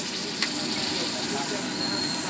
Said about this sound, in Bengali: তো এবার একটুখানি জল দিয়ে দিলাম